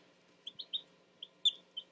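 Baby chicks in a small indoor chicken brooder setup give high, thin peeps, about six short chirps in a quick irregular run, close but soft against a low steady hum.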